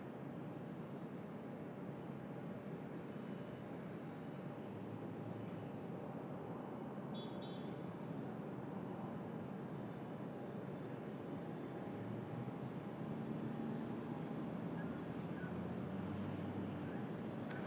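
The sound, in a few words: Qantas domestic jet from Perth landing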